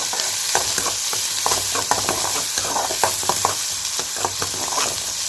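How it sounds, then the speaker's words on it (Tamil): Onions sauté in a pan for a stir-fried okra dish, with a loud, close, steady sizzle and frequent scraping stirs, and no talk. "வெங்காயம் வதங்குற வரையும் நல்லா வதக்கிக்கிடுவோம்"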